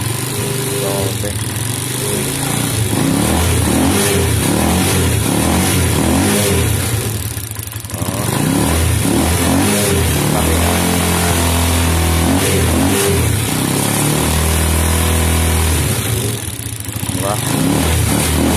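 A Motor Star 125 motorcycle engine, set up to run on battery power, runs loud and close with repeated revving surges and short dips, while someone talks over it.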